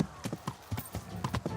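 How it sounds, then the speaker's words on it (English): Horse hooves clip-clop in a steady, quick rhythm while a horse is ridden in a video game, fairly faint and close, with no talk over it. "The horse riding is pretty nice."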